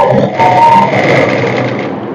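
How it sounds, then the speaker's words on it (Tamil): Sewing machine stitching along the folded edge of a blouse, a brief continuous mechanical whirr, close and fairly loud, running steadily before easing off. "இந்த திருப்பி இப்படி மடிச்சு இப்ப இந்த ஓரத்துல தையல் போட்டுக்கணும்."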